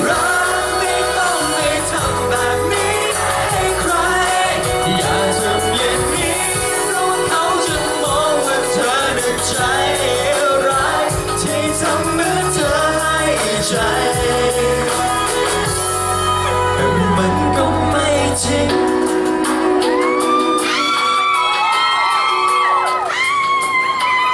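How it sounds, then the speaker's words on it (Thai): Concert crowd at a live music performance in a Big C shopping mall in Bangyai, Thailand, screaming and cheering loudly and continuously over amplified band music and singing throughout. "ขอบคุณสำหรับเสียงกรีดร้อง เสียงกรีดร้อง"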